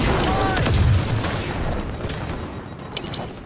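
A rocket launcher blast in Halo 5 booms with a heavy low thud and rumbling debris that decays over a few seconds, loud and close, with scattered gunfire crackling in the background.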